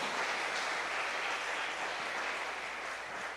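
Applause from a church congregation, a continuous wash of clapping that stays fairly faint and even, with no voice over it.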